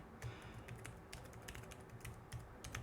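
Keyboard keys tapped while entering an email address during a WordPress admin account setup, a quiet, irregular run of soft clicks over faint background noise.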